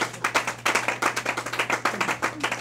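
A church congregation of young people claps loudly in a fast, steady rhythm, a dense crowd of hands beating in unison, with some cheering voices mixed underneath.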